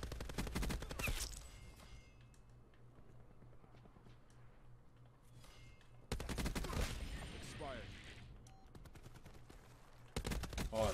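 Rapid-fire bursts from the Hades gun in Call of Duty: Black Ops 4, loud dense volleys opening the stretch, returning midway and again at the end, with quieter gaps of game ambience between.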